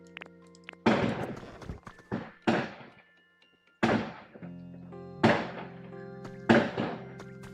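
Fireworks go off outside in a downtown Chicago neighborhood, with about six sharp, loud booms at irregular intervals, each trailing off in a short rumble, with no talk.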